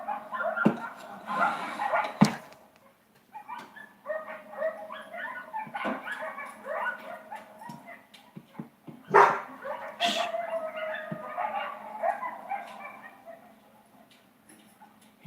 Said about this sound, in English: Listen to the wolves.